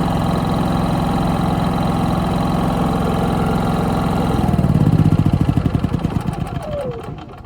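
Portable generator idling with no load, a steady close-up mechanical hum that partway through swells into a louder, pulsing throb before easing off slightly.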